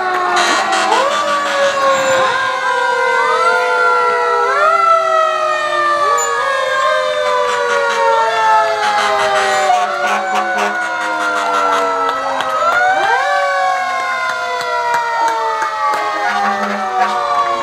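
Fire engines and a ladder truck roll past in a D-Day anniversary parade in Ipswich, Massachusetts, their loud wailing sirens rising and falling in overlapping sweeps, joined by air horn blasts, with no talk.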